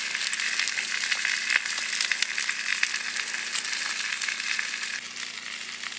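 A steak with Texas dry rub sizzles and fries steadily on a cooker, a dense close crackle that holds constant with faint utensil clicks and no talking.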